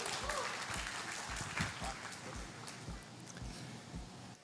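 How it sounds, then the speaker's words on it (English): A conference crowd at React India applauds as a speaker is introduced, giving steady, fairly faint clapping with a loose rhythmic pattern, and voices murmur underneath. "give the biggest round of applause"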